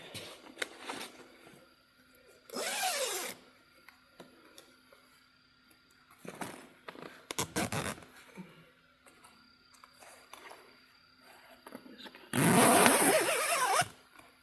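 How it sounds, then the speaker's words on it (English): A zipper on a mesh bug net is pulled in a few quick, raspy bursts, with soft rustling and handling noises between them. "the zipper seems solid on this"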